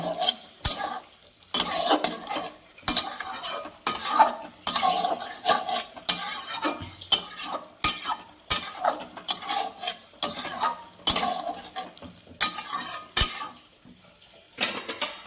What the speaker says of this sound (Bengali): এবার আমি মশলাটার মধ্যে পটলগুলো দিয়ে দিব দিয়ে এগুলা ভালো করে মিশিয়ে নিব পটলগুলোতে